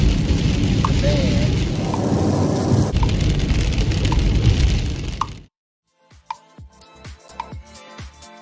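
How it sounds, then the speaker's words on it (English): Heavy rain falls steadily during a drive in western Michigan, a loud, dense hiss that cuts off abruptly partway through, leaving quieter scattered drips and taps. "Wow, you can see it's raining."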